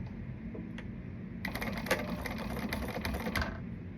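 A sewing machine topstitches fabric at a top-stitch length, starting with a faint hum and then a rapid, even mechanical chatter of the needle running for a couple of seconds.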